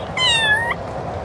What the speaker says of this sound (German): Ich bin ein kleines süßes Kätzchen.